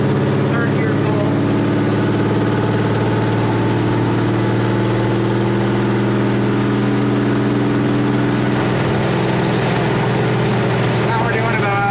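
Engine of a 1973 Ford Econoline E200 van pulling in third gear: a loud, steady, harmonic drone heard from inside the cab, holding an even pitch throughout.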